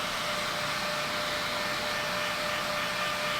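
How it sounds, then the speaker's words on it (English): An electric fan blows a steady, even whir of air to dry lash extensions, close and continuous with no pauses. "if you do have a fan to dry down quicker"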